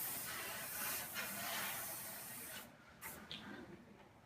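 An airbrush sprays in a steady airy hiss that stops briefly and then restarts in short bursts.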